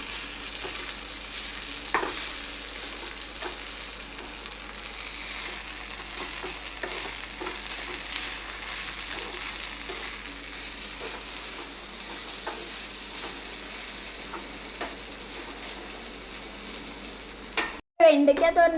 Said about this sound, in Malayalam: ഇതൊന്നും കൂടെ ഒന്ന് ഇളക്കി യോജിപ്പിച്ച് കൊടുക്കാം.